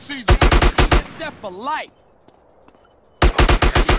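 Rapid bursts of automatic gunfire in GTA San Andreas, two loud volleys of evenly spaced shots separated by a brief pause, with a voice speaking in the gap.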